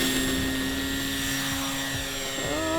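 An Origin Hobby Wilga-2000 RC model plane takes off from short grass with mid flaps, its electric motor whining loud and close with a steady high buzz that rises in pitch near the end.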